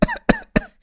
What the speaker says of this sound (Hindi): अरे मुझे तो इतनी ज्यादा खांसी हो रही है,